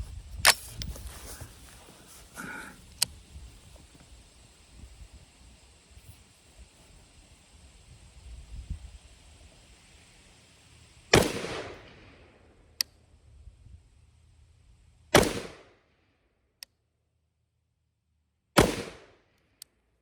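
A BRN-4 rifle fires three sharp loud shots spaced a few seconds apart, each with a short echoing tail, after a stretch of quieter shuffling and handling noise.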